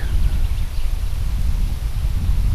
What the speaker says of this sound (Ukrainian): Да, вітер задуває.